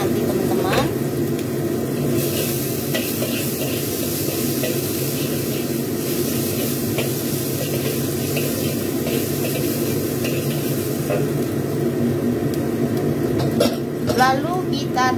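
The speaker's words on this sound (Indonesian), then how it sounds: "kita tumis bumbu bawang putih dan jahe yang sudah saya cincang kasar seperti ini. Kita tumis sampai dengan harum" Coarsely chopped garlic and ginger sauté in hot oil with a steady, close hiss and light crackle, while someone talks over the cooking.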